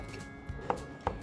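Knife mincing a quarter of a carrot on a cutting board, heard as a few sharp, close taps spaced apart with no voices.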